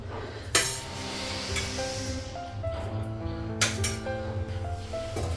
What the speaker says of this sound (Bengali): ঢাকা দিলাম, ঢাকনাটা উঠালাম